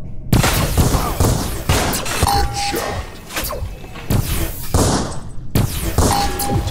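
Gunfire in the first-person shooter game Vindicta, several loud close bursts and thuds in quick succession with brief gaps between volleys.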